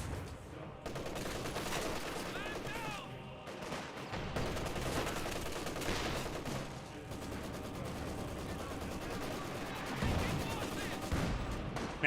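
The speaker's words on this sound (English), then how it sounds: "Maxim firing away" Maxim machine gun fire in a Company of Heroes 2 battle: dense, continuous rattling bursts mixed with scattered gunshots and booms, loud and sustained throughout, with no voices.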